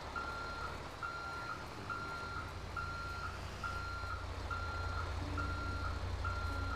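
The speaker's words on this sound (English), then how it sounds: "I'm just gonna reverse in" Regular truck reversing beeps in GTA 5 repeat at an even pace over a low engine rumble, with a faint steady tone in the background and no talk.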